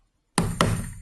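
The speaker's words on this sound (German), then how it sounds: "nehme wieder den Nagel und den Hammer und piekst das hier an, schlag das hier an." A hammer drives a nail into the wood of a Sela CaSela cajon assembly kit, with two sharp, close knocks in quick succession, each leaving a short woody ring.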